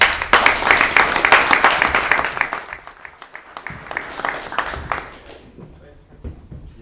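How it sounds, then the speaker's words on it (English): An audience at a club talk welcomes a guest speaker with loud, dense applause that gradually thins out into scattered claps and fades over several seconds. "let's give a warm Curiosity Club welcome to alumnus Joshua Lifton of Crowd Supply"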